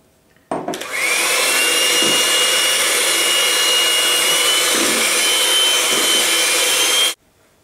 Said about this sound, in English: Whipping double cream is a fantastically simple process, particularly when you've got a good high-speed electric whisk like this one.